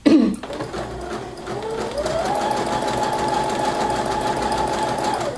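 Sewing machine running a zigzag stitch on a piece of fabric, a steady continuous mechanical whir that starts after a brief knock and holds at an even pitch throughout.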